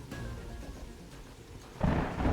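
Rolling thunder from a storm in the game Terraria, a low, steady rumble that swells into a louder crack-like surge near the end, with game music faintly underneath.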